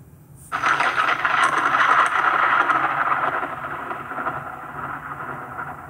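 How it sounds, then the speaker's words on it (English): Thunder in a storm: a sudden loud crack breaks in after a brief hush, then a broad rolling rumble mixed with a rain-like hiss that slowly fades over several seconds. "as we're watching lightning and hearing thunder"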